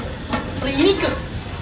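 Tomato sautéing in a pan over a wood-fired stove, a loud continuous sizzle with a brief louder swell from stirring, close by.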